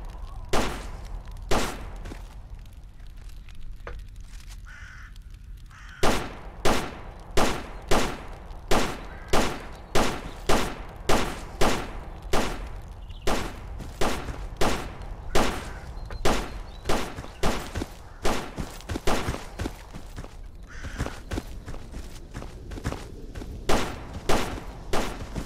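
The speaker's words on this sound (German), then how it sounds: "Wo wird hier noch geschossen?" Gunfire rings out in the video game Stalker Anomaly, a long run of sharp, evenly spaced loud shots that starts sparse and becomes a steady rapid volley, heard alone.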